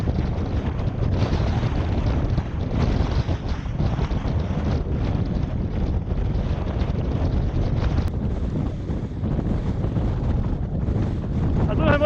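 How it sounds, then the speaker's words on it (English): Strong wind on a mountain summit buffeting the microphone in a loud, unbroken roar, gusting steadily throughout with no other sounds standing out. "How much of this you'll hear, it's very windy"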